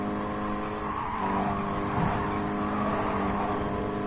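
A car in the Gran Turismo racing game drives with a steady engine drone and a thin, persistent drivetrain whine above it after limited-slip differential changes. The tone holds fairly constant and sounds close, with no talking.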